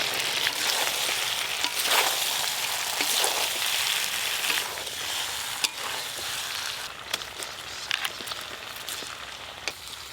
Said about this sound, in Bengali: এবার ভেজে রাখা আলু দেব।